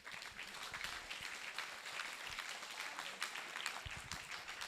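A middle school audience at an outreach assembly gives a round of applause, a faint, steady patter of many hands clapping throughout, heard from a distance.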